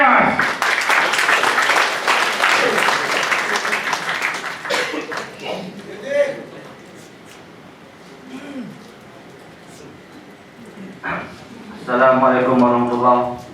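An audience at a business training course in a hotel function room gives loud applause that fades after a few seconds, followed by someone speaking over a microphone with scattered noise.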